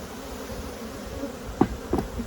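Excited honeybees buzzing during a hive inspection, a steady close insect drone with a couple of brief louder bumps near the end.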